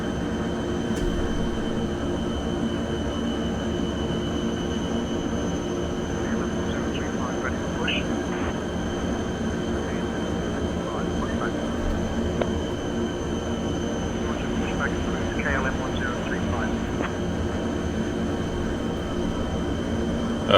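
A Fokker 27 Friendship turboprop airliner taxis at Amsterdam airport, heard from inside the cabin as a steady, even engine drone that holds throughout at moderate level.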